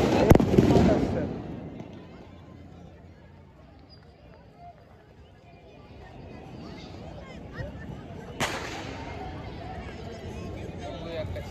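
A 15-shot fireworks cake for Diwali fires into the sky, with a loud launch at the start and another later and a crackling rumble in between, while people talk nearby.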